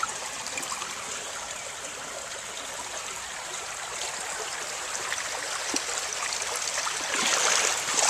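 Water rushes through a gold mining highbanker dredge, a constant hissing, splashing flow that holds steady and then surges louder near the end, with no voices.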